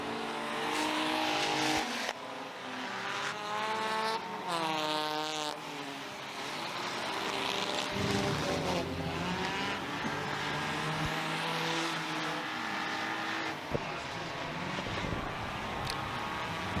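Race cars roar around the Merrittville Speedway oval, a loud continuous engine drone with rising and falling pitch as cars pass close and pull away, several cars blending together throughout.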